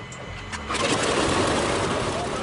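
A piston aircraft engine with preheated oil starts immediately, catching and settling into a loud steady rumble, with voices over it.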